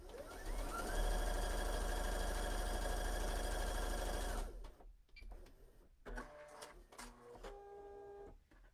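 A Bernina sewing machine runs a straight stitch on knit fabric with a steady, even motor whir and needle hum for about four seconds, then stops, leaving quiet handling noises.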